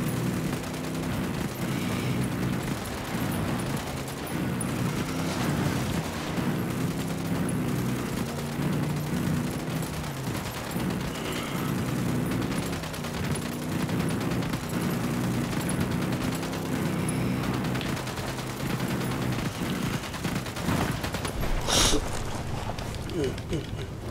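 Gunfire in Ghost Recon Wildlands during a production operation mission, sustained and dense, blending with battle ambience while voices talk over it throughout.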